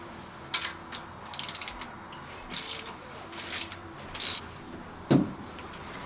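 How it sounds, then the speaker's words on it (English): A ratchet fitted with a 5/8 socket loosening a rocker arm bolt on a Z28 engine, heard as several short bursts of rapid metallic clicking with pauses between them, close up and with no talk. "to take the rockers off, you need a 5/8 socket"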